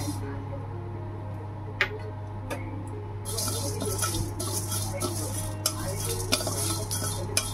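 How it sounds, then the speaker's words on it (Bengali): Whole cumin, coriander, garam masala and bay leaves dry-roast in a wok, heard as scraping stirs and light rattling of spices against the metal, with scattered sharp clinks over a steady low hum. "কিছু শুকনো কড়ায় একটু ভেজে নেব।"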